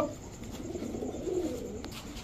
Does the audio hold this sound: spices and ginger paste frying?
no